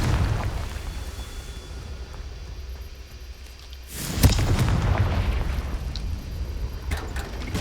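A Confringo fire spell bursts in Hogwarts Legacy, producing one deep, loud explosive boom midway that rolls into a rumbling fiery wash over a low background drone.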